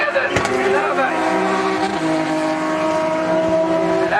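Rallycross race cars, a multicoloured Peugeot 206 and a Nissan Micra, roar past at a 2004 French championship round at Lavaré, engines loud and close, revving steadily over sustained track noise.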